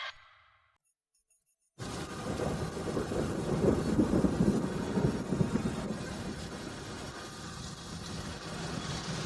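Steady rain pours down with a low rumble of thunder beneath it, starting abruptly after a near-silent opening and holding at an even, moderate loudness for the rest of the stretch.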